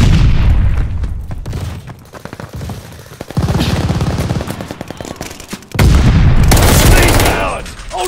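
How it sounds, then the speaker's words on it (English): A stun grenade blasts during a Call of Duty Vanguard team deathmatch, with loud booming bursts and crackling gunfire landing in heavy waves, and voices heard between the blasts. "Tossing stun grenade."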